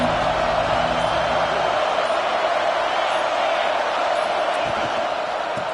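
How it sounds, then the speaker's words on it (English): A stadium crowd at a football game roars in a steady, dense wall of cheering that stays loud and unbroken throughout, with a commentator's voice faintly under it. "This crowd ready to make its presence known."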